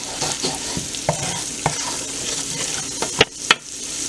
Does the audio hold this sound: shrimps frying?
yes